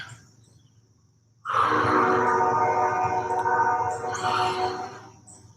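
A train rumbles past close by, starting abruptly and holding a loud, steady roar with tonal whining that fades slightly toward the end.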